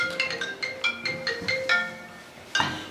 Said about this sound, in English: Yes, I can hear it ringing.